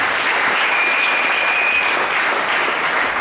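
A church congregation applauds loudly and continuously during a Sunday worship service, a dense, steady clapping of many hands close by with no talk over it.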